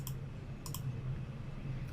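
Mouse clicks on a user name in remote-access software, heard as a few faint, sharp clicks spread across a quiet background hum, with no speech.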